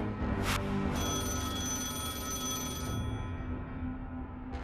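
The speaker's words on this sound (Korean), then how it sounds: "이때 전화가 한 통 걸려옵니다." A telephone rings in a ringing burst over a dense low background hum, fairly loud, with no voices.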